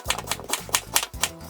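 A knife dicing celeriac into big chunks on a cutting board, a run of sharp, close knocks coming in quick irregular bursts of roughly ten chops, with short pauses between groups.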